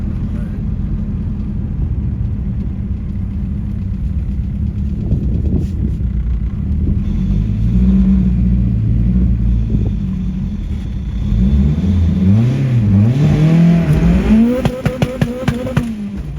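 A boosted K-series engine swapped into a CD7 car, held around 2,500 RPM: a loud, steady low drone with wind noise that rises into revving sweeps near the end, followed by a few sharp clicks.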